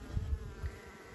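Honey bees hum faintly around the frames of a sparsely populated hive, a soft, thin buzz lasting about a second beneath some low handling thumps.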